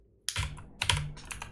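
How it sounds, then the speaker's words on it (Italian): Rapid clattering keystrokes on a computer keyboard, two close bursts of typing over about a second and a half, no voices. "Chi sta cavalcando sulla tastiera?"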